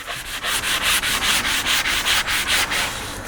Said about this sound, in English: has to do some light sanding